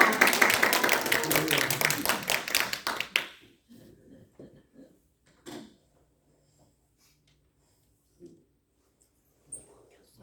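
Congregation clapping in a church service, a dense round of applause lasting about three seconds that stops abruptly, followed by near silence with a few soft knocks and shuffles.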